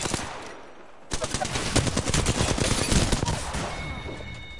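Rapid automatic gunfire rips out in Apex Legends after a brief quieter moment, a dense, loud stream of shots that runs to the end before easing slightly.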